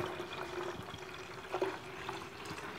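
Fresh water poured into a pitcher of watermelon agua fresca with sugar and lime juice, a soft steady trickling stream with a brief louder splash partway through, close and quiet, no talking.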